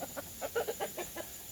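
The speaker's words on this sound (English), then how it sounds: "Say Panda just scared a chicken, and the rooster is coming over to tell her" A startled chicken clucks in a quick run of about eight short, moderately loud calls close by, right after a dog has scared it.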